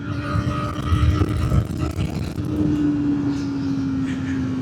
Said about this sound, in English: Just because I'm revving it a lot.